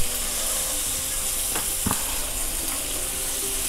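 An onion and tomato gravy for paneer mushroom masala fries in a pan over high heat, giving a loud, steady close sizzle with a couple of brief scrapes, and no talking.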